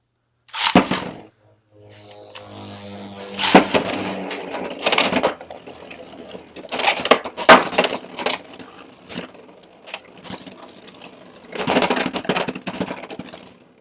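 Beyblade X spinning tops battle in a stadium: a sharp launcher rip opens, followed by bursts of rattling, clacking collisions and whirring, with short pauses between clashes and a final flurry of impacts.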